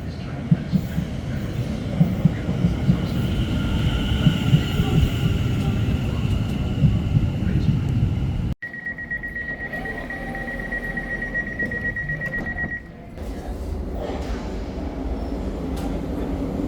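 Passenger train rolling along the line to Windsor and Eton Riverside, a steady loud rumble of wheels on track, then a sustained whine over quieter running after a brief break, close and continuous.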